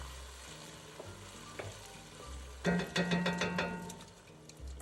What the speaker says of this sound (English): I'll give it a little stir.